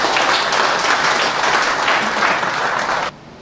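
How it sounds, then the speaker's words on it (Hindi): Audience at a Hindi comedy poetry gathering breaks into brisk, dense clapping, loud and even for about three seconds before cutting off abruptly. "सुनिए आप, एक बार ताली ढंग से बजाओ"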